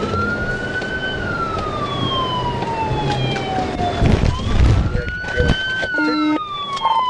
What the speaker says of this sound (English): I drove beside the suspect vehicle with my lights and siren activated